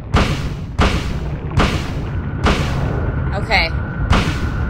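Gunshots fired by Harry in the Silent Hill video game ring out as five loud, evenly spaced booming blasts with a brief voice speaking between them.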